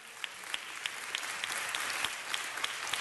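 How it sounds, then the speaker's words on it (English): Steady applause from a gathered audience honoring a family standing up, many hands clapping evenly at moderate distance with a few sharper claps standing out. "Give them a round of applause."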